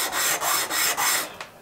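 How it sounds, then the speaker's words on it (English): Hand sanding on walnut wood: a soft, raspy back-and-forth rubbing in several strokes, close and fairly quiet, with no voices. "I'm gonna sand all six sides"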